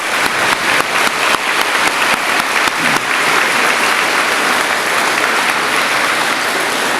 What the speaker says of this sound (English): Can we give everyone a big old Hodgenville Elementary applause?